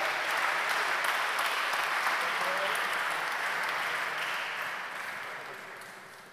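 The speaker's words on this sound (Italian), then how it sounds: "Ancora un applauso." Sustained applause from an audience at an international guitar competition award ceremony fills the hall, loud and even before tapering off toward the end, with no talk over it.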